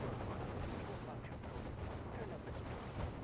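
A Red Alert 2 tank battle with eighteen Lasher tanks against fourteen Rhino tanks: a dense, continuous roar of cannon fire and explosions, steady and loud throughout, with no clear breaks.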